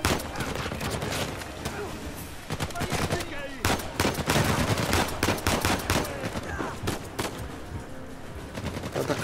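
Gunfire in a shootout in the video game Uncharted 4: dense, continuous bursts of automatic weapons and single shots, loud and close, with barely a pause through the whole stretch.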